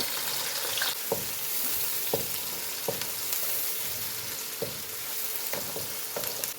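Onions sizzle steadily in a hot pan with whole cloves and a cinnamon stick for a savoury gosht dish, a constant frying hiss broken by regular soft stirring scrapes about once a second, with no voices.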